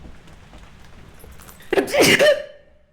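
After a quiet stretch of faint room noise, a person nearby gives one loud, sudden sneeze with a sharp airy burst that fades quickly, heard during a Phasmophobia gaming session.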